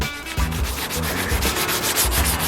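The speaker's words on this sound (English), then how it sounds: "So we're gonna sand this down and we're gonna prepare the area" Sandpaper is rubbed back and forth over a damaged surfboard to prepare a ding repair, a loud close rhythmic scratchy rasp in steady strokes throughout.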